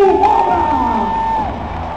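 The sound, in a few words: crowd cheering and applauding motorcycle rider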